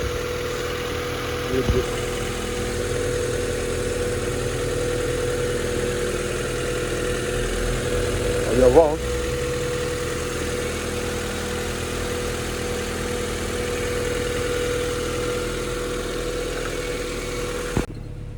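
A Honda Civic with an overheating problem idles steadily just after starting, a low continuous engine hum with a few short bumps, while someone speaks briefly in French over it.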